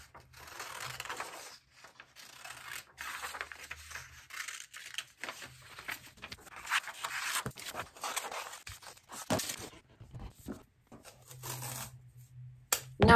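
Scissors cut a paper pattern out on leather, with irregular bursts of crisp snipping and rustling paper separated by brief pauses, close and alone without speech.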